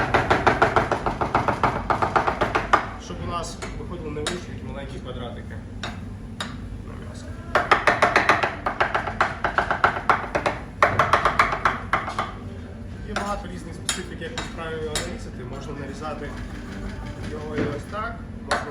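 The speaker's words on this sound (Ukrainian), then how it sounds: "Рубаю невеличкими частинками" Knife chopping food into small pieces at a waiters' professional skills class, with quick rhythmic knocks on a board arriving in bursts separated by pauses while a person talks throughout.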